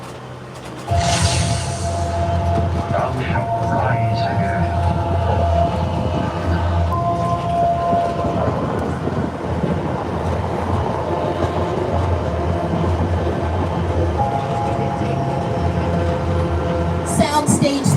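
A studio tour tram drives through a film lot, a steady low rumble with rattling and clicking from the wagons, continuous and fairly close throughout with no talk.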